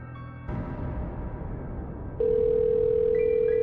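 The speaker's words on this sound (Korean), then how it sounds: "통화 연결음이 머릿속까지 울렸습니다" Telephone ringback tone as a radio drama effect: a low hum gives way to a steady, unbroken electronic tone that starts abruptly and sustains loudly, with faint higher beeps layered near the end.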